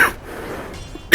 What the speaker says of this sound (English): It's a cough.